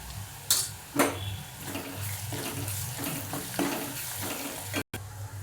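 Onion sautés in a pan with asafoetida and turmeric, giving a steady close sizzle broken by several sharp stirring scrapes and taps of a spoon against the pan.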